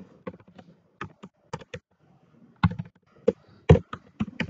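Code is typed on a computer keyboard in close, irregular bursts of crisp key clicks separated by short pauses, with no one speaking.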